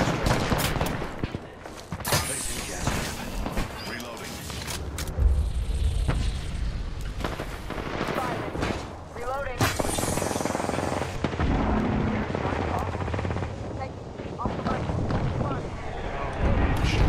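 Rapid bursts of gunfire in an Apex Legends match with the player under attack, repeated close shots and automatic volleys crackling over a long stretch while a voice talks throughout.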